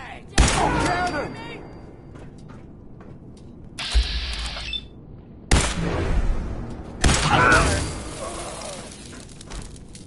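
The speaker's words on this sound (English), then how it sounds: "Cannon!" Cannon blasts and gunfire boom through a Fallout 4 battle in short loud bursts, separated by brief gaps and mixed with game voices shouting.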